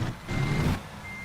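A truck in American Truck Simulator reverses onto a basic flatbed trailer, its steady reversing beeper sounding over a low engine rumble, close and moderately loud with no talk.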